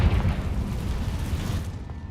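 A fiery Confringo blast from the video game Hogwarts Legacy erupts as a dense, rumbling explosion, loud at first and then rolling on as a steady low roar that eases slightly toward the end.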